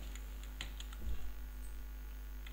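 Keystrokes on a computer keyboard as a search term is entered into a web browser, a few light, scattered taps, close and quiet over a steady low hum.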